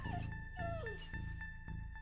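Abandoned dog left behind after an evacuation gives several soft, high whimpers and whines that slide downward in pitch, faint over low background rumble.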